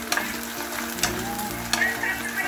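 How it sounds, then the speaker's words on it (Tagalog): Garlic frying in a hot pan with a steady, close sizzle, the crackle swelling in brief bursts as it is stirred, with no talking. "Ilagay po natin ang ating bawang"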